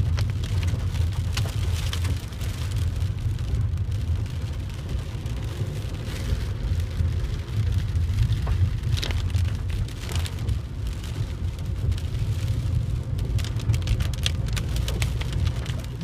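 Heavy rain from a thunderstorm pours steadily on a motorway, a dense hiss of drops pounding surfaces, with a low rumble underneath throughout.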